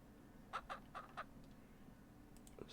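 Chickens cluck in the Ranch Simulator video game, with several short clucks close together near the start and a faint call at the end over a quiet background.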